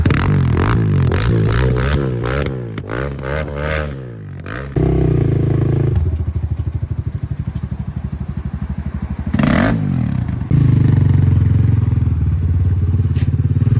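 An ULAR250 F7 motorcycle runs through a ride, its engine revving and shifting pitch in waves, then settling into a steady loud drone with brief surges, close and continuous throughout, with no voices.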